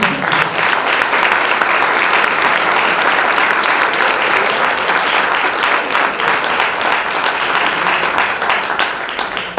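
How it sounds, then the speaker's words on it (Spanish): A large conference audience at a media ethics congress in Lomas de Zamora claps loudly and steadily, a dense, even wash of applause with no voices over it. "Les damos a todos ellos un fuerte aplauso."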